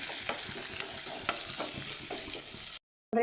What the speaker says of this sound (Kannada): ಈರುಳ್ಳಿ ಸಾಸಿವೆ ಹಾಕ್ಕೊಂಡು ಸ್ವಲ್ಪ ಬಾಡಿಸ್ಕೊಳ್ಬೇಕು ಕೆಂಪಾಗೋ ತನಕ ಫ್ರೈ ಮಾಡ್ಕೊಳ್ಬೇಕು